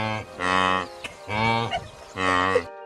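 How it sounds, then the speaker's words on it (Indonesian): Three deep, drawn-out moaning calls from a wildebeest follow one another with brief pauses, each a loud, nasal, cow-like bellow heard up close. "Suara wildebeest mirip suara kerbau."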